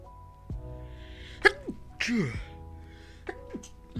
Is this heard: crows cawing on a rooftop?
no